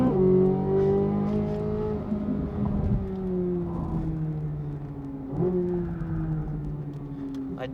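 A Corvette on a race track, its engine droning loud and steady from inside the cabin, pitch sliding down under braking into a banked bowl and climbing again as it pulls out.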